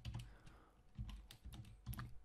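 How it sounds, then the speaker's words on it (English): Soft, quiet keystrokes on a computer keyboard tap in a steady irregular rhythm, close and alone with no voices. "What you do, you hit Control F, click on this Replace tab, and just type it in."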